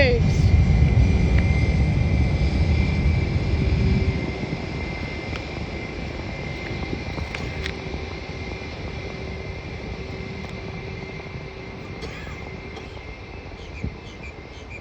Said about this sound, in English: JetBlue taking off.